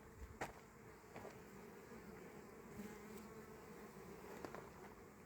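A continuous hum of many honeybees around a hive fills the air, with occasional louder buzzes as individual bees pass close, no voices.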